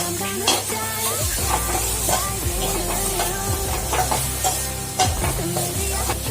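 Vegetable momos frying and being stirred in a pan, with capsicum and cabbage going in, give a steady close sizzle under repeated scraping stirs and soft knocks of a utensil against the pan.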